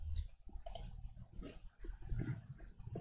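A few quiet computer mouse clicks, close by, scattered over a low room hum while navigating a coding site; no one speaks.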